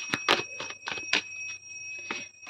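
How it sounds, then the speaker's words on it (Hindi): A small puja bell rings repeatedly during home worship in a steady, quick rhythm, bright metallic strikes with a lingering tone, moderately close and fairly soft. "पूजा चल रही है घर पे, ठीक है, तो घंटी की आवाज़ सुनाई दे रही है"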